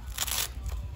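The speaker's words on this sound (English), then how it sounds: "ASMR Velcro." Velcro strap ripped open in a barn: one short, sharp tearing burst followed by a fainter second rip, close and crisp.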